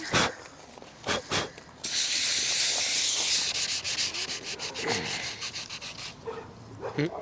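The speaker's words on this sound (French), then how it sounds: "Donc Joël est en train de poncer." A car headlight lens is sanded by hand in steady, rasping strokes, the scraping near and loud for several seconds after a few sharp opening scrapes, with a dog faintly audible at times.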